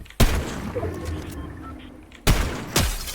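Sniper rifle shots in a shooter video game, two loud sharp blasts about two seconds apart, each with a trailing echo over faint background game noise.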